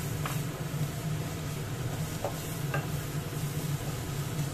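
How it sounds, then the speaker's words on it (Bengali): Chopped onions frying lightly in a pan for paneer bhurji make a steady soft sizzle over a low hum, with a few brief stirring clicks, nearby and without speech. "এখানে আমি পেঁয়াজটা খুব বেশি ভাজা করব না,"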